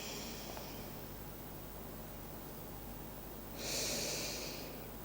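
A single deep breath during a relaxation exercise, heard as one soft, airy exhale lasting about a second over steady low background hiss, with no talking.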